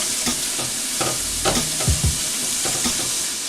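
Finely diced white onions frying in melted garlic butter with a little olive oil, a steady close sizzle with occasional scraping stirs across the pan and no talking.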